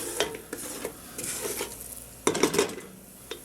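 A spoon scrapes and stirs through beef stew in a metal pot, with a clattering burst of stirring midway and a soft background simmer, close and with no talking.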